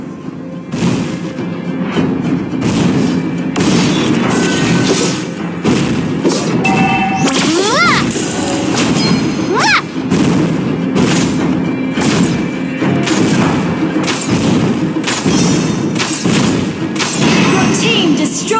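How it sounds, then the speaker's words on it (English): A turret is destroyed in the Mobile Legends: Bang Bang video game amid loud, dense battle effects, with repeated booming thuds, crashes and sweeping whooshes running continuously throughout. "Your team destroyed a turret."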